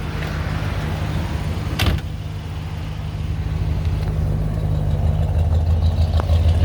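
A 1967 Buick GS400 V8 idles through factory-style mufflers with a steady, low, even rumble held for several seconds, broken by one brief sharp click partway through.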